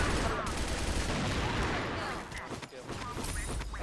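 Dense rapid gunfire in the CrossFire first-person shooter, loud overlapping bursts of automatic weapons filling the whole stretch, with a short dip before the shooting resumes.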